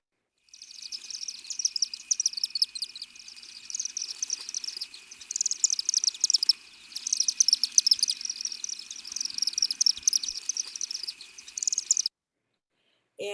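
Chimney swifts calling in flight overhead: a rapid, high, continuous twittering chatter that runs in dense bursts for about twelve seconds, then stops abruptly.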